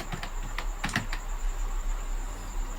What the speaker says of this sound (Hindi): अनाया गुप्ता को भी टाइप कर लेते हैं